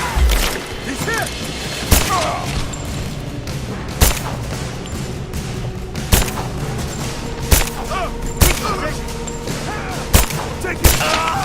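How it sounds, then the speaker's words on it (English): Gunfire in the video game Rise of the Tomb Raider: a steady crackle of shots over a dense battle din, with sharp louder bangs landing roughly every second or two. "Open fire! Back me up! Laying down covering fire!"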